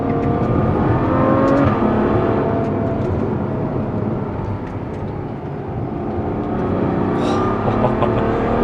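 A Ferrari V12 sports car accelerates hard, its engine a loud, continuous roar with a steady rising pitch and no talk over it.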